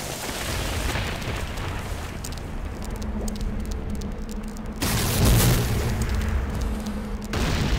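A Nod structure explodes in the Renegade video game, a loud deep boom that surges midway through and rumbles over a continuous background of battle noise.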